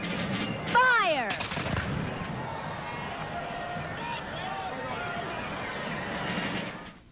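A volley of gunfire from parade soldiers dressed as troops of the War for Independence at the 1988 Macy's Thanksgiving Day Parade: one loud, sharp burst followed by a long wash of crowd noise and outdoor rumble, with a shouted voice near the shot.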